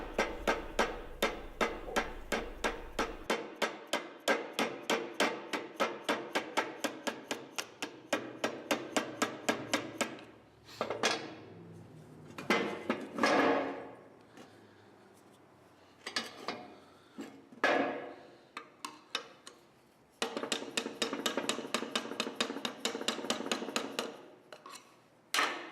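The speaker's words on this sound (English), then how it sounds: "I'm using the screwdriver for some leverage and just wrenching apart that joint" Screwdriver used as a lever to wrench apart a trunnion joint on a Grizzly 1022 table saw during restoration, rapid repeated metallic clicks and knocks in bursts, with a quieter scraping pause midway, close and fairly faint.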